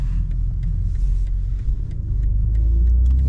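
A BMW M340i xDrive with a custom XHP tune accelerates hard in manual mode, Sport Plus, its deep engine rumble loud and steady from inside the cabin and rising toward the end.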